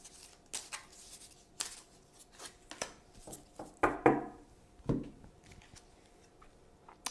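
Tarot cards are shuffled by hand before one is drawn, a series of soft, close riffling and flicking bursts separated by short pauses, faint and uneven in rhythm.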